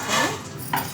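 A utensil stirs ragi flour into boiling water in a pot, giving two quick scraping, clinking strokes against the metal, close and fairly loud, with no talking.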